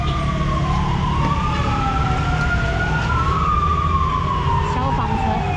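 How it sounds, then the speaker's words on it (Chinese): Fire truck siren wailing past a busy market, its rising and falling tone sweeping clearly over a constant wash of crowd and street noise, loud and close throughout. "消防车。"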